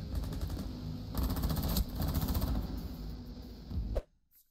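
Rapid automatic gunfire in Rainbow Six Siege, a loud burst of fast repeated shots running for about four seconds before cutting off abruptly into near silence.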